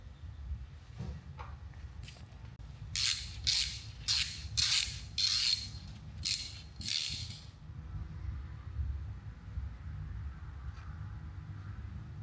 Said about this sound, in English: Let's grab some sockets to get the long shafts off here.